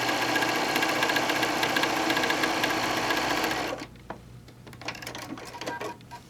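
Sewing machine stitching a quarter-inch quilt seam on border print fabric, a rapid continuous whir for several seconds that stops abruptly, followed by faint handling noises.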